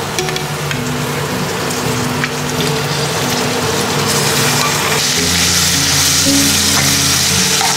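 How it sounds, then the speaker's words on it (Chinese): Lean pork stir-fried with minced ginger in a hot wok for old Beijing zhajiang noodle sauce, a loud continuous sizzle and crackle with a low hum beneath, no talk. "瘦肉进去翻炒"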